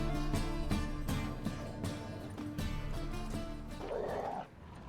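Dogs barking in The Witcher 3: Wild Hunt, a run of repeated sharp barks close by over ambient game sound, ending in a brief whimpering whine.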